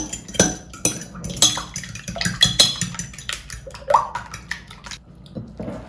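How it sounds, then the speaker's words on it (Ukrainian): Eggs are whisked in a bowl as filling for a zucchini pizza, with a quick irregular clatter of utensil against the bowl and small wet clicks, close and fairly loud with no talk. "Перемішую яйця"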